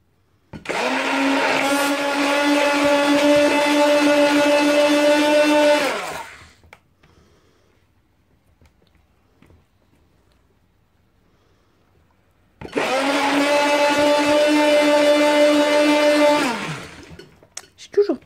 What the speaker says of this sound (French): Je vais quand même mettre un petit coup de batteur.